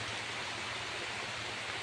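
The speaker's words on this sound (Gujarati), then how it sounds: "વરસાદ બહુ વધી ગયો છે" Heavy rain pours down amid gusty wind, an even, faint wash of hiss with no breaks over the short span.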